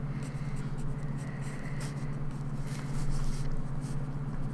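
A graphite pencil scratches softly across smooth sketchbook paper in continuous strokes and short scribbles, close and quiet over a steady low hum.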